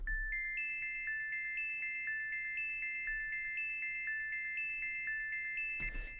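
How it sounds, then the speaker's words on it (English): A bright synth pluck, its notes plainly repeating with softer parallel delay echoes trailing each hit, pulses in a steady rhythm over a low sustained bass tone, ending in a short noisy burst. "by using parallel delay here, parallel effects with this dry-wet knob, we can get a really nice pluck kind of"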